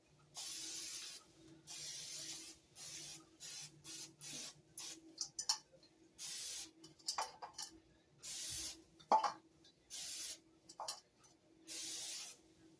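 Cooking spray hisses onto a cake pan in a series of short, irregular bursts with brief pauses between them, close and fairly soft.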